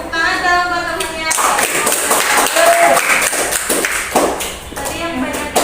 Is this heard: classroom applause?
yes